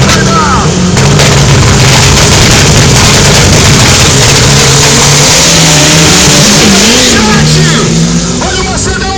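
A VW Gol Turbo drag racing car launches and accelerates hard at a drag strip, its engine roaring loud and close with rising revs and shifts, while an announcer talks excitedly over it.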